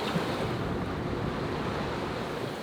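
Steady rushing waves and wind surround a sailboat moving at about five or six knots in light breeze on a moonlit night at sea, a constant broad wash with no talking.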